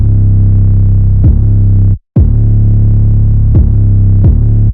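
Heavily boosted 808 bass in an FL Studio scream-rap beat, its low end pushed up at 72 Hz by a bass-boost plugin. Loud sustained booming tones slide down several times, cut by one brief silent gap, with no talking.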